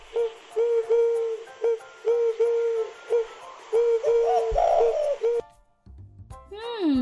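Dove cooing in a steady series of low, hollow, rounded notes, close and clear, repeating at an even rhythm for several seconds before a pause and a brief different call.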